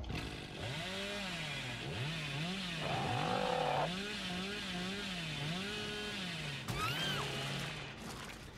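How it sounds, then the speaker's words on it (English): Chainsaw of a killer in Dead by Daylight, revving in repeated rising-and-falling surges, close and fairly steady, with a brief harsher burst near the end. "I hit someone with a chainsaw"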